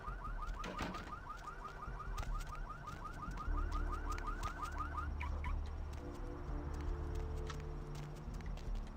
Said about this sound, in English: Hate car alarms.